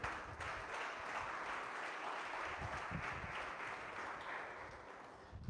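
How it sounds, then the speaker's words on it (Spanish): A church congregation applauds during a sermon, a steady, faint wash of many hands clapping at a distance with no talking over it. "Denle ese aplauso a su gloria."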